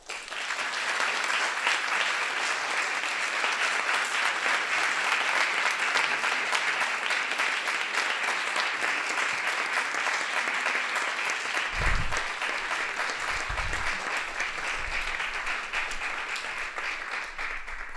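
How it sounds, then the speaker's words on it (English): Audience applause for speakers at a National Coming Out Day event with a Harvard Kennedy School alumni caucus, sustained dense clapping at steady loudness throughout, with a few low thumps near the end. "So please give a warm round of applause for these incredible speakers."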